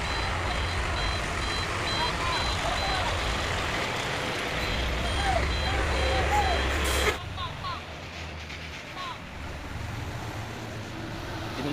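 Heavily loaded truck reversing on a steep hill climb, its repeating reversing beeps pulsing steadily over engine rumble, with someone talking nearby; the beeping and engine noise cut out abruptly partway through, leaving quieter outdoor ambience.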